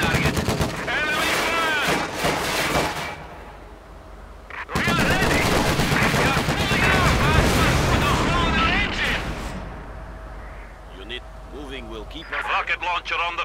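Heavy gunfire and explosions in a World War II battle in Company of Heroes 2, dense bursts of automatic fire and booming blasts filling most of the stretch, under shouted voices.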